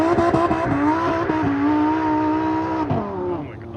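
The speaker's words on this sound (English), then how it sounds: "Got the 4C on the track." An Alfa Romeo 4C sports car engine revs and drones with rising and falling pitch, steady and fairly close, as it drives hard around a track.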